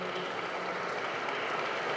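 Audience applause for musicians at a concert presenting a double bassist's album, a steady, dense wash of clapping held at an even level throughout.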